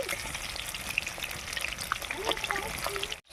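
Chicken manchurian balls fry gently in oil over low heat, giving a soft, even crackle and bubbling that stays fairly quiet and constant across the short stretch.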